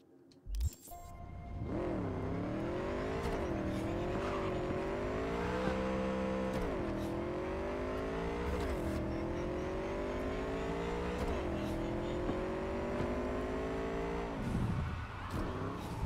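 Car engine in Cyberpunk 2077 revving steadily while driving, its pitch rising and falling through repeated gear shifts, loud and close and alone for about sixteen seconds.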